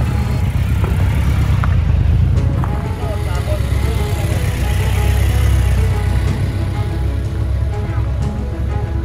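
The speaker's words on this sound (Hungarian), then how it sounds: "Na, ugye megy a motor." A motorcycle engine runs steadily at close range throughout, a continuous low rumble, with people talking over it during experience rides given to visually impaired passengers.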